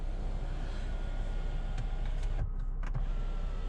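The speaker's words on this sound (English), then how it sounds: "It does have the panorama moonroof, I don't know. So that does open, sunroof, I guess." The panoramic moonroof of a 2020 Mercedes GLC 43 AMG opens with a faint, steady electric motor whir that holds level, with a couple of small clicks near the end.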